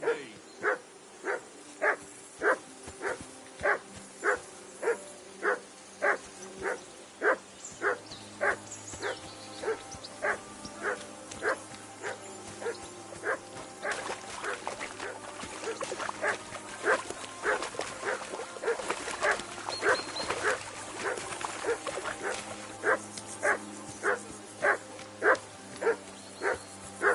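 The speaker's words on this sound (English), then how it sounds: "Call off that damn dog" A dog in the medieval video game Kingdom Come: Deliverance 2 barks in a steady, rhythmic series of loud yaps, about one per second, over quiet background ambience with no speech.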